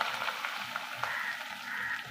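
Onion sautés in a pan for a bitter gourd thokku, giving a soft, fairly quiet sizzle with light stirring scrapes and a few small ticks. There is no talk over it.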